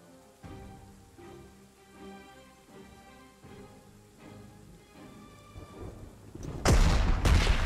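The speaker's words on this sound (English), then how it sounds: "And it is of course raining again." Rain and thunder from the strategy game Panzer Corps 2 sit under soft, tonal game music, ending in a loud, sudden crash of thunder over the final second.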